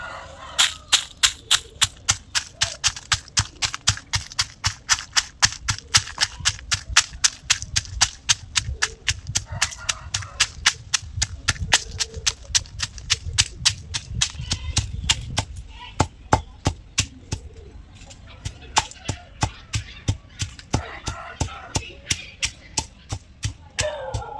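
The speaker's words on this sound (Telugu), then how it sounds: "ఇలా కొంచెం ఉప్పు వేసి దంచాలి" Green chillies and salt pounded in a mortar for a village-style prawn-shell chutney make a steady, close, heavy thudding at about two to three blows a second, continuing alone for over twenty seconds.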